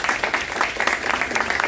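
An audience at an inaugural lecture for a criminal advocacy course applauds, producing dense, steady clapping throughout with no pause.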